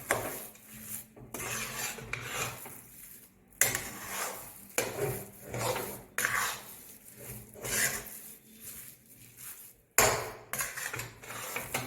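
Fried boondi for motichoor laddu is stirred in a pan with ghee, raisins and cashews, making a series of about a dozen rhythmic scraping strokes of spoon against metal at moderate loudness, close up and without talk.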